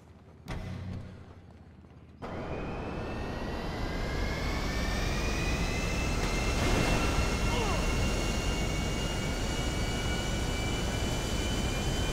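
An airplane engine in the video game GTA V roars steadily, starting with a short burst and then settling into a loud continuous jet-like drone that holds for about ten seconds with a slowly shifting whine.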